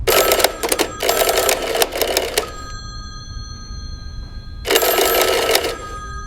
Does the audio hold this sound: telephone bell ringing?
yes